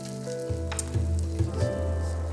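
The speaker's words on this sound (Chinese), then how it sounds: "火再稍微开一开，底部再煎到金黄色就好了" Pork buns pan-frying over raised heat in a covered pan, their bottoms crisping golden, with a steady close sizzle and a few louder crackling bursts.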